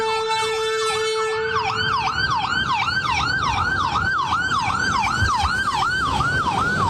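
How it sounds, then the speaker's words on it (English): An ambulance siren wails loudly and continuously in a steady rising-and-falling cycle as the vehicle works its way through an intersection during hurricane coverage, over a rumble of road noise. "So we do have an ambulance trying to make way through this intersection."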